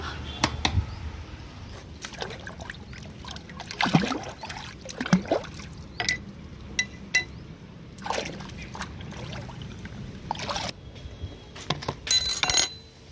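Water is poured from a small can onto a plant in a 12-inch grow bag outdoors, giving faint intermittent trickles and splashes, with a few light clinks and rustles between pours.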